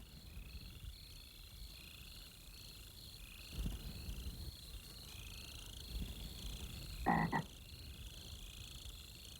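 A toad in the desert gives a short croaking call, a brief burst standing out against quiet background insect buzz.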